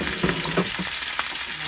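Shrimp and cream sautéing in oil for sotanghon, a close, dense sizzle with soft stirring knocks and bubbling throughout.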